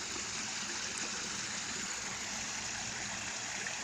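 Water trickles and rushes steadily at an outdoor pond, a constant broadband wash with no pauses, moderately loud and heard alone without speech.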